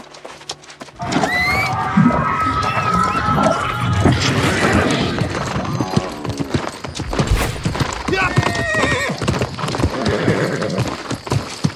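A horse gallops in the online game New World, its rapid hoofbeats clopping continuously with neighs and occasional crashing impacts, while a voice talks over the game sounds.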